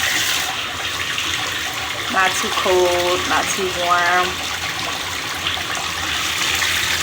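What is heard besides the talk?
bathtub tap running water for a bath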